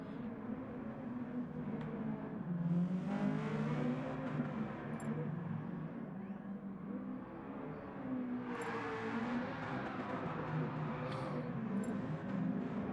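Honda Civic race cars lapping the Nordschleife in a racing video game hum with steady, moderately faint engine drone, pitch sweeping up and down through gear changes and passing cars.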